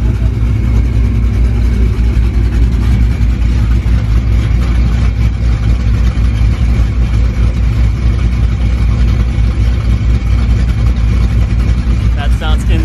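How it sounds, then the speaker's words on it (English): Loud, rumbling V8 car engine with open headers idling with a deep, throaty low end, steady and close, with faint talking mixed in. "I just want to show you guys the open headers."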